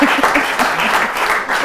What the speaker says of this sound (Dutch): U mag klappen voor de Ron.